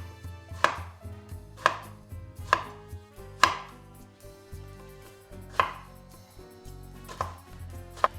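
A knife chops eggplant into thick, large pieces for a Greek briam, striking a board seven times in a loose, steady rhythm. The crisp, close knocks sound over soft background music.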